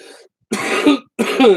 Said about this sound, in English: As soon as I'm done coughing.